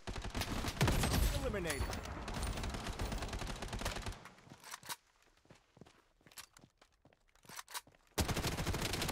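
Gunfire in the battle royale video game Blood Strike: dense bursts of shots under a busy game mix, then sharp, separate cracks in a quieter stretch before the din returns, with a brief in-game voice announcement.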